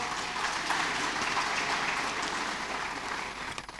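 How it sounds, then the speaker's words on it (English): A round of applause for the panelists at a town hall meeting, a full, even clapping crowd that tapers slightly toward the end. "Please, a round of applause for our panelists."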